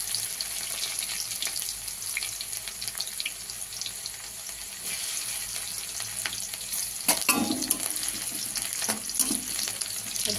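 Garlic sizzling and frying in hot oil in a pan for shapla bhaja, a steady close crackling hiss throughout with a brief louder stir or clatter midway.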